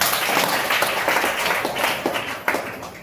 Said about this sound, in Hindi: अपने लिए जोरदार ताली